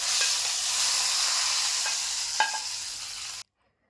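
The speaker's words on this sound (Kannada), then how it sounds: "ಈಗ ನಾವು ಮೇಲ್ಗಡೆಯಿಂದ ಒಗ್ಗರಣೆ ಕೊಡೋಣ" Hot ghee tempering with mustard seeds, chillies and curry leaves poured over bisi bele bath, a loud continuous sizzle with a few crackles and pops that cuts off abruptly.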